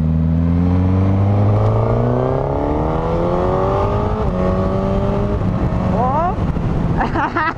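A 2021 Suzuki GSX-S1000 four-cylinder motorcycle accelerates hard with a quickshifter, its engine note rising through several quick, clipped upshifts, loud and close with wind buffeting, and a brief exclamation from the rider.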